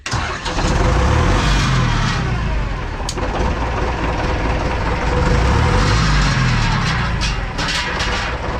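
An Ursus 1004 tractor's diesel engine runs loud and close with the throttle raised, giving a steady rumbling drone that swells and eases slightly over several seconds.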